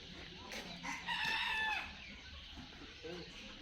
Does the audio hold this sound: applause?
no